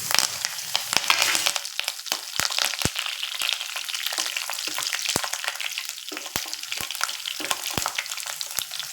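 Curry leaves, garlic and chilies sauté in hot oil in a pan, producing a continuous crackling sizzle broken by sharp spatters and pops throughout, close and fairly loud.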